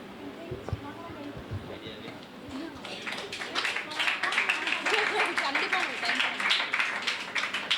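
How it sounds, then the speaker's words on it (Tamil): Church congregation clapping together at a celebration service, a dense burst of applause that swells in after a quiet start and continues steadily loud, with some voices mixed in. "அடுத்து டிக்ரோஸ் மாமா கைத்தட்டி வர வைப்போமா?"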